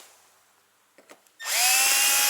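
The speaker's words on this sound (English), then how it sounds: "we're just going to drill in the 4 holes" Power drill bores holes into a snowmobile for a phone mount; after a few faint clicks, the motor kicks in loudly and runs as a steady high whine to the end.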